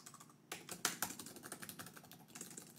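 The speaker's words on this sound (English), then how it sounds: "So you can hear the keys." Quiet, close-up typing on the keyboard of a 2022 Lenovo Legion Slim 7 AMD Advantage Edition laptop: a run of soft, irregular key clicks and taps starting after a brief pause, with no talking.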